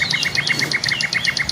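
Caged songbirds at a bird shop in Bekasi chirp in quick, bright, repeated bursts, several close birds calling over one another with no talking.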